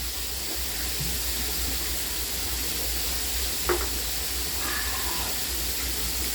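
Country fried steak fries in a pan, giving a steady, even sizzling hiss at close range with a faint clink of a utensil partway through.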